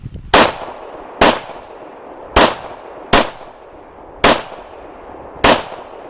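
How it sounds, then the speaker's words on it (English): Six loud, close gunshots from a Hi-Point JHP .45 pistol, each a sharp crack with a short ringing tail, fired at an uneven pace about one second apart. "bust some rounds out of it real quick."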